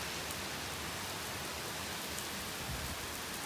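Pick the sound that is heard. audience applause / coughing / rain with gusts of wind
rain with gusts of wind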